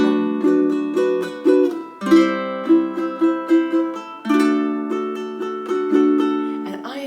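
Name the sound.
ukulele gentle straight strum, thumb on first down strum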